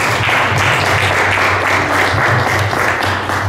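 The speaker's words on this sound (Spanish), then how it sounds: "para su papá y mamá, fuertes aplausos" Steady applause from a congregation at a church baptism, dense continuous clapping lasting the whole stretch, loud and close.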